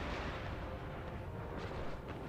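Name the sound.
artillery bombarding enemy cannons in a video game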